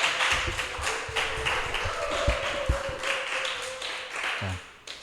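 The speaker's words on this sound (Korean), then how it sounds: "우리 담임 목사님 나오실 때 힘찬 박수와 함성으로 모시겠습니다" A church congregation at a youth worship service claps to welcome the senior pastor, with dense steady clapping and a few sharper near claps over a crowd murmur, fading at the end.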